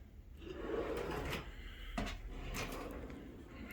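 A wooden track drawer slides open in a model railroad room, a scraping, rubbing rasp of moderate loudness lasting a few seconds with a couple of sharper knocks along the way.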